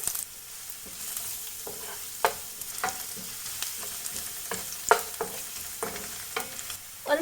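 Chopped garlic and ginger frying in oil in a pan, a close, steady sizzle broken by repeated sharp clicks and scrapes of stirring at an uneven rhythm, with no talking.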